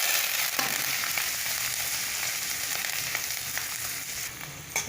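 Onions, curry leaves and vadagam fry in hot oil in a steady, dense sizzle, loud and close, with faint stirring taps and no talk.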